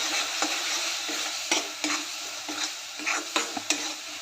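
Kashmiri chili powder and garam masala for a dhaba-style shev bhaji are stirred into a hot pan, giving a bright, steady sizzle punctuated by regular scraping strokes of the spoon.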